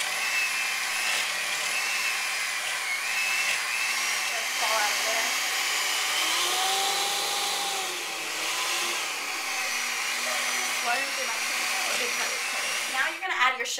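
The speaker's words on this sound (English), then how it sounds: "let's beat that at a low speed" An electric mixer beating butter and cream cheese for marbled cream cheese brownies at low speed, a steady whirring motor drone that wavers slightly in pitch as the beaters work through the mix, with a brief clatter at the end.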